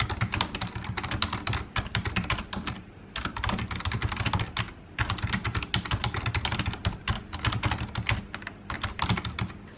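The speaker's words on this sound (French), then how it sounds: "vous m'avez vu taper sur mon clavier" Typing on a computer keyboard in a home office, rapid close clatter of keystrokes in bursts with a couple of brief pauses.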